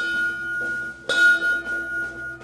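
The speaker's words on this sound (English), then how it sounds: "You're going to ring the bell 3 times." A bell rung to quit Navy SEAL Hell Week training in SOCOM Hellweek II 2006, a clear metallic ring struck once and left to decay with lighter follow-up tones.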